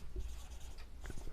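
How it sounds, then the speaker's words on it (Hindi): Chalk or marker scratching out a heading on a classroom board during a Class 10 chemistry lecture on covalent bonds, a brief run of close, scratchy writing strokes with no talk. "लिखते हैं हेडिंग कोवेलेंट"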